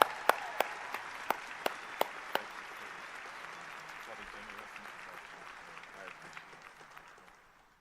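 Audience applause at the Adler University 2025 graduate commencement, welcoming the speaker Dr. Josiah F. Joekai Jr. Dense, steady clapping from a large crowd with a few sharp nearby claps early on, fading gradually toward the end.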